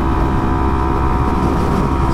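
Steady engine drone and wind rush from a motorcycle cruising at highway speed, a constant loud hum filling the whole stretch with no talk.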